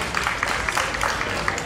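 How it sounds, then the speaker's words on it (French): Audience applause at a Paris political gathering for a former senator, a dense steady wash of many hands clapping at moderate distance, with no voices standing out. "on peut l'applaudir"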